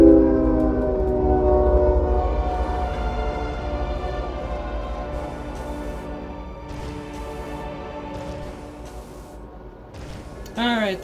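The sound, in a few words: train passing in video game Metroid Prime 3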